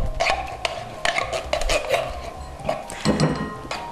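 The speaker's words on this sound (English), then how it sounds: "and put them in a mixing bowl." Two soups tipped into a mixing bowl from cans, with steady clinks, scrapes and knocks of metal and glass against the bowl, close and fairly loud, and no talking.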